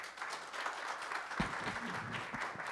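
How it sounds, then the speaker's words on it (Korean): Audience applause fills a ceremony hall at the first Chungcheongnam-do Youth Day celebration: a steady, even wash of clapping from a large crowd that holds for the whole stretch without letting up. "다시 큰 박수 부탁드립니다"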